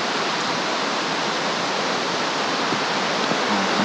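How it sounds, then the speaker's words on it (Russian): The Sudyanka river in the Khamar-Daban mountains rushes steadily, a broad continuous wash of flowing water heard close by and without any voices. "Речка Судянка."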